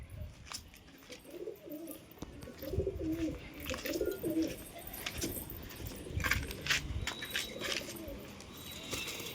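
Soft, low cooing from a healthy female pigeon kept for sale, repeating faintly through a stretch of light rattling and jangling clatter, with no voices.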